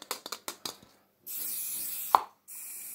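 A couple of seconds of steady aerosol hissing, then a short pause and another burst of spray, following a few quick snipping clicks.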